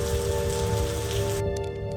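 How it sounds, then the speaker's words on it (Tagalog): Heavy rain pouring onto a surface as a dense, steady hiss, with a faint hum underneath, cutting off abruptly near the end. "Pero ibang usapan na kapag malakas ang ulan."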